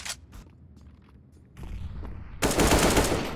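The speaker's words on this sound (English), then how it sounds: "He was shooting me too." Rapid automatic gunfire from Counter Strike: Global Offensive, a short burst at first, then a louder, denser barrage of shots filling the last second, with no talking.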